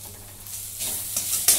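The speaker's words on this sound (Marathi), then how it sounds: "त्याला परतून घेते 2 मिनिटं" Turmeric, coriander powder and a potato mixture sizzle in a hot pan for bread pakoda, a brief, steady frying hiss with light scraping of stirring that grows slightly louder toward the end.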